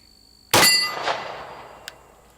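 A bullet striking a small 5-inch steel target at a shooting range gives a single loud metallic clang that rings and fades over about two seconds, followed by a faint second tick.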